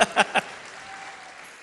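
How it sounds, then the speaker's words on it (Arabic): A festival audience claps in a few sharp bursts, then fades into a softer spread of scattered clapping and crowd murmur. "طب سقفوا لنفسكم بقى"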